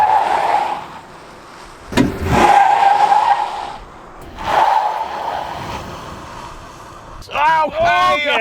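A 2022 Ford Lightning Platinum electric pickup on a hot day launches hard at full acceleration, with surging bursts of tire noise and a tonal motor whine rising and falling, and a voice speaking briefly near the end.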